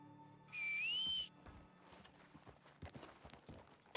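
In a Red Dead–style western roleplay game, a sharp rising whistle calls a horse, then light hoof clip-clops follow as scattered soft thuds, moderately close, with no talk.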